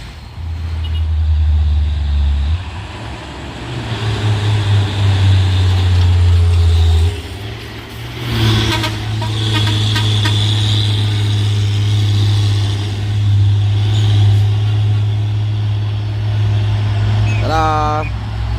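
A heavy tronton truck climbs a steep hill at Bukit Kodok with a loud, sustained low engine drone that swells and labours, and a brief horn toot near the end; voices are heard faintly beneath it.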